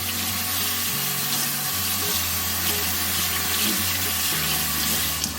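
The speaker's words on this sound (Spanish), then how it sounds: "Y ahora hay que enjuagarlo con agua tibia a fría hasta que el agua salga limpia." A tap runs steadily with a close, continuous rushing splash as warm-to-cold water rinses a freshly dyed fabric skirt. No voices are heard.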